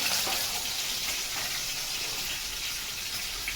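Sea fish fry in a pan with a steady, bright sizzle that holds evenly throughout, close and continuous.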